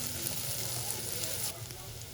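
Chopped garlic sizzles quietly in a pan over low heat, a soft steady hiss that drops slightly in level near the end.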